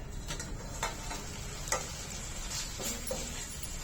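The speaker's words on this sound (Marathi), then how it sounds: "भाजी एकदा चांगली परतून घेऊया।" Ghevda bean vegetable being stirred in a pan, a steady close sizzle under repeated scraping clicks of the spoon against the pan.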